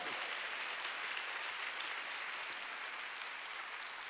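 Steady, dense applause from a church congregation during a Korean Wednesday worship service, a continuous wash of clapping at moderate distance with no talk over it.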